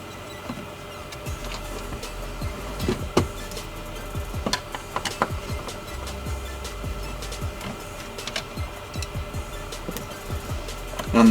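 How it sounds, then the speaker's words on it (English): Screws are backed out of a car climate control unit in a Subaru BRZ/Scion FR-S dash, making a run of small, close ticks and clicks over a steady faint hum. "So I'll remove these screws on the sides."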